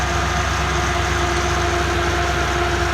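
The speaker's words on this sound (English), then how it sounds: "So let me rev this thing up and see if it stays balanced, right?" The engine of a 1978 Chevy G20 van runs loud and close with a steady, even rumble and faint vibration. It holds a constant pitch without rising, and no talking is heard.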